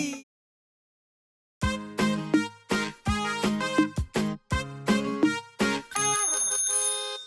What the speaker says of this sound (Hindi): साइकिल की घंटी जोर से बजाई